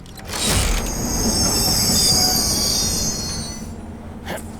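Train running on rails, a loud sustained high metallic wheel squeal rising over rumbling carriages, then fading to clatter near the end.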